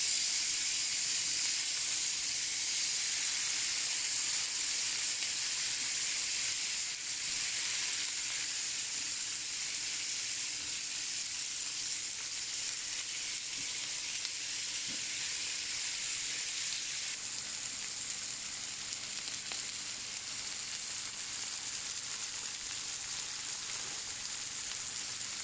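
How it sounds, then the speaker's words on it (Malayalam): Keto peri peri chicken frying in a pan gives off a steady, bright sizzle and hiss that holds evenly for the whole stretch, close and moderately loud, with no voices. "നമുക്ക് ഏകദേശം 3 മിനിറ്റോളം ഓരോ സൈഡിലും കുക്ക് ചെയ്യണം."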